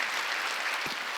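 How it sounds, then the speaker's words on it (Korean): A church congregation applauds during a Wednesday worship service, a steady wash of many hands clapping at even strength throughout, with a low thump near the end. "남편이 죽었다 살았으니까 왜 박수 안 쳐요?"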